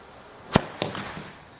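A homemade muzzle-loader cannon fires once with a sharp, loud crack, and a second fainter bang or impact follows a quarter second later before the sound fades into quiet outdoor air.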